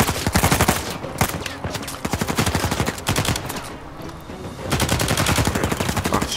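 Sustained automatic gunfire in the Uncharted 4 video game, dense rapid bursts rattling almost without pause, loud and close, easing briefly in the middle before resuming full force.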